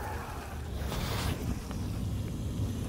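A mini RC outrigger boat with a big prop, a Dynamite Marine model driven by a DX5 Rugged radio, screams across open water at full throttle, its steady high whine mixed with wind and water rush.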